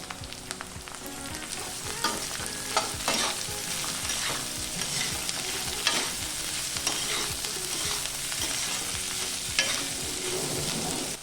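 Cauliflower pieces fry with onions in a pan with a busy sizzle and frequent, rhythmic spatula scrapes and knocks against the pan, close up and without speech.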